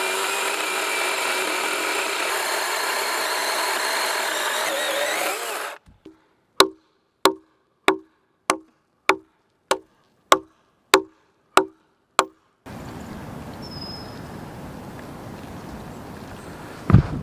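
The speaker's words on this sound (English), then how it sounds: "I'm gonna try to shear off the knot with my chainsaw" A chainsaw shears a knot off a muddy log, running as a steady, loud engine roar for about six seconds before cutting out, followed by a series of evenly spaced sharp clicks and then a different, lower noise.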